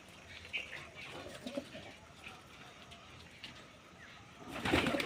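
Pigeons kept at home in cold January weather give faint, scattered coos in a quiet setting, ending with a louder burst of fluttering and rustling.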